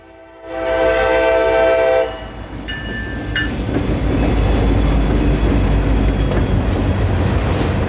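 A freight train led by a single GP40-3 locomotive blasts a long, loud horn, pauses, gives a shorter second blast, then rumbles past close by with a steady roar of rolling cars.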